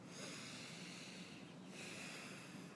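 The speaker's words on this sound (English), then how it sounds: "I will breathe in and out" A person breathing slowly in and out through the nose, a soft, faint, close airy rush that swells and fades once, with no talking.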